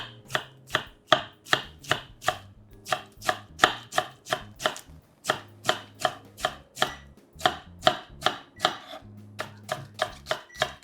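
A knife shreds cabbage on a cutting board for Japanese cabbage dishes, striking in quick, steady chops, close and crisp, with brief pauses between runs of strokes and no talking.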